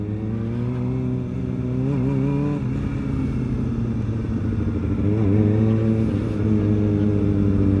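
A Kawasaki ZX-4RR motorcycle engine idles and revs nearby, a steady rumbling drone with a few quick throttle blips rising and falling in pitch, heard alone without talk.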